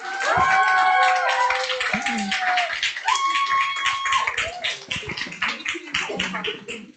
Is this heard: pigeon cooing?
no